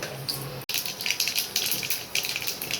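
Mustard and cumin seeds splutter in hot oil for bitter gourd fry, giving a crackling, hissing sizzle. A brief cut comes near the start, then a steady close burst of pops and fizz continues with no talk.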